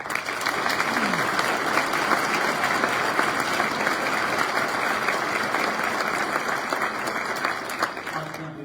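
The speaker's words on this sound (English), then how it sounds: "How about a round of applause for Alpha Company?" Graduating fire academy class at a commencement ceremony receives sustained applause from the audience, a dense, loud crowd of clapping that continues steadily and tapers slightly near the end.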